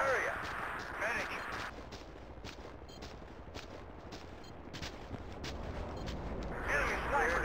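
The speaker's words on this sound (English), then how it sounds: "Enemy artillery, your area." Battlefield 2 artillery fire sounds as a string of faint, distant booms and sharp bursts, scattered unevenly under game voice chatter.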